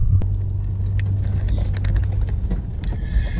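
A 4WD Toyota Prado crosses the Macallister River just ahead, a steady engine rumble heard from a following car, with splashes and knocks breaking in over the hum.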